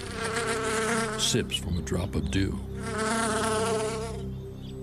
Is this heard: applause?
no